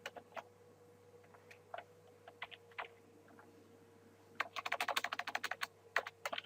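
Quick keystrokes on a computer keyboard while editing HTML and CSS code, scattered taps at first, then a dense fast burst of typing near the end, close and fairly quiet against a low steady hum.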